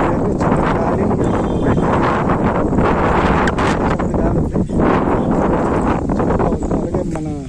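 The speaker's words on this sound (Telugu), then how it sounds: "చిన్న గాలి ఉంది." Wind blowing across a hilltop near a temple, a loud, continuous buffeting rush against the microphone, with brief rustles and faint voices mixed in.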